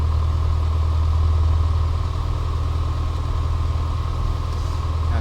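A PA38 Tomahawk piston aircraft engine idles steadily just after start, a loud low rumbling drone holding even throughout.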